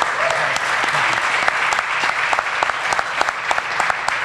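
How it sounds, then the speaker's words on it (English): A crowd at a press conference applauds steadily, a dense wash of clapping that keeps going at an even level throughout. "Let's give him another round of applause."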